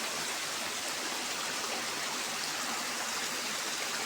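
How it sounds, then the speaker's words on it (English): Krishna river water gushing beside Nana Fadnavis wada just after rain, a steady broadband rushing roar filling the whole stretch, close and unbroken with no talk. "It was raining just a moment ago and see this water is just gushing down this"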